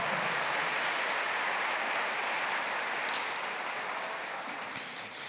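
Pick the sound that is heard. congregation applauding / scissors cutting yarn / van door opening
congregation applauding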